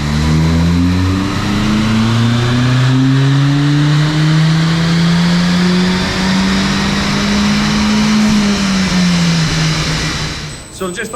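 A stock Ford Focus ST225 engine on a dyno winds up in one long, loud, continuous pull, pitch climbing steadily for about ten seconds before backing off abruptly at the end.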